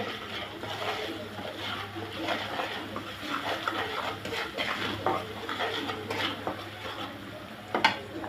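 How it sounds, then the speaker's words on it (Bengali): Mustard paste, salt and spices being mixed with okra and fish in a pot, producing steady soft scraping and stirring clatter of utensil against cookware, close and continuous with no talk. "এখন আমি ভালোভাবে মিশিয়ে নিব।"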